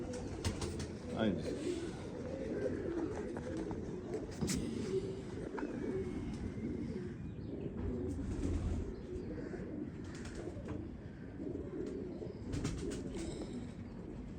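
Pigeons coo in a loft, soft repeated low calls with occasional wing flaps, under someone speaking Hindi nearby.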